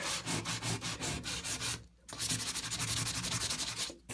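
Filler on a fiberglass bathtub repair being sanded by hand, heard as close, loud rhythmic rasping strokes with a brief pause partway through before the strokes resume.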